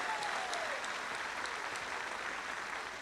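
Steady, dense applause from a crowd, sustained evenly throughout with no voices standing out.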